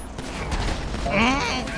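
A quick burst of rapid gunfire in the video game GTA, with a whistling, warbling tone rising over it.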